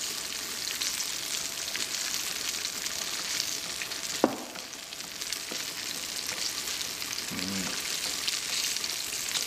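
Continuous loud sizzling and crackling of battered fish deep frying in hot oil, with a brief clink partway through.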